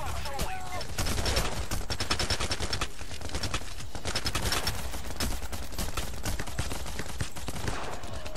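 Gunfire in the video game PAYDAY The Heist: rapid, dense bursts of shots crackle almost without pause, loud and continuous throughout.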